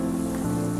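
Chicken bread patties sizzle in hot oil, a dense, steady crackling hiss that stays loud and close with no talking.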